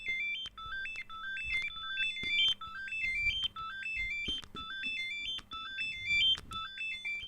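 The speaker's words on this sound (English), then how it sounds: "the rumble motor can emulate a speaker because it can do so many different vibrations" A Nintendo Switch 2 Joy-Con rumble motor acting as a speaker, buzzing out a short repeating stepped melody like a ringtone, with faint low clicks and handling noise beneath, no talking.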